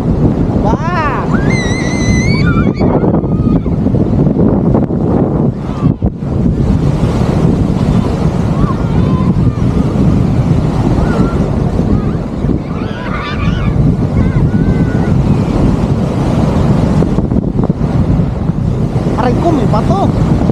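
Strong waves surge and roar on a beach at Cagsiay 2 in Mauban, Quezon, close and continuous with heavy wind buffeting the microphone, while people talk and shout nearby.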